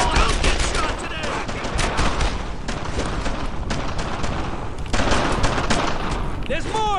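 Dense gunfire in the World War II shooter game Brothers in Arms: Earned in Blood, loud rapid rifle and machine-gun bursts without pause, with shouted voices mixed into the battle.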